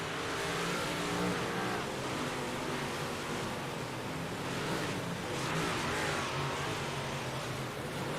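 Race cars roaring around an oval track during a drag race down the back straightaway, a steady loud broadband engine drone with swelling passes and no talk.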